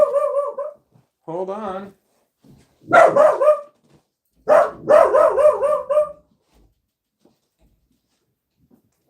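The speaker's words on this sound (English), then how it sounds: "Can you hear the dog?" A dog barks close by in a few loud, drawn-out bursts separated by quiet pauses, while a person briefly speaks.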